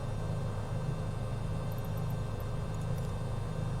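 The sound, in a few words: airplane engine in Flight Simulator video game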